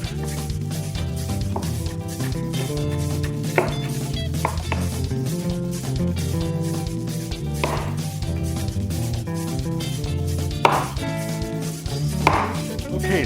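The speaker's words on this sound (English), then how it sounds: "Put it down, and then just start chopping it." A TopFeel 8-inch chef knife chops fresh vegetables and cilantro for pico de gallo on a cutting board, a quick run of crisp knocks and board taps with a few louder strikes, close and without talk.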